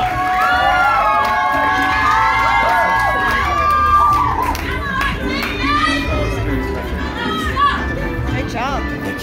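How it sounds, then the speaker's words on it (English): Crowd noise at a team poetry slam finals during an arts festival, loud cheering, whoops and excited shouts from many voices blended with a steady rumble of audience clamour. "Let's keep that applause rolling as we welcome BattleBorn back to the microphone"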